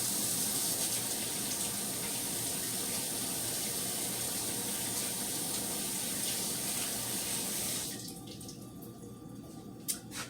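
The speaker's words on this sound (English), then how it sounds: "I'll wash my hands." Tap water runs steadily into a sink as hands are washed at close range. The flow stops near the end, leaving a few drips and small knocks.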